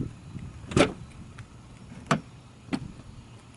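The trunk of a white 2012 Toyota RAV4 Limited AWD V6 opens with a few sharp mechanical clicks and latch thumps spaced about a second apart, close by in a quiet setting.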